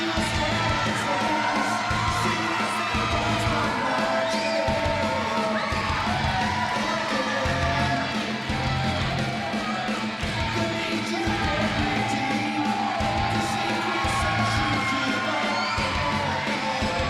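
A crowd at a wrestling-style match cheers, whoops and yells continuously and loudly from start to finish, with shouts from children mixed into the dense roar.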